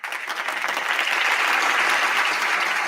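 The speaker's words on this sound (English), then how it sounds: "I applaud you with a warm heart." Steady crowd applause, a dense even wash of many clapping hands, holds at a constant moderate level for a few seconds with no voices over it.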